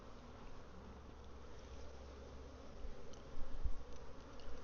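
Honey bees buzz around an open hive in damp, rainy weather, a dense steady drone at moderate level with a few louder passes close by toward the end.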